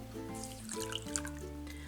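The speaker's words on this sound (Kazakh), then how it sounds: "4 грамм желатиннің үстіне 20 миллиграмм суды құйып," A small amount of water is poured over 4 grams of gelatin. It makes a soft, thin trickle for about two seconds, partly masked by steady background music.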